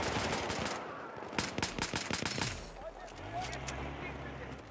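Rapid bursts of Battlefield 4 gunfire crackle in quick succession, loud and close, then fade into a lower rumbling hum.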